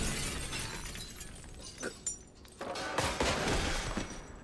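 Glass shatters in an Indiana Jones video game: a loud broadband crash followed by scattered tinkling shards and further smashing bursts over several seconds, with no voices.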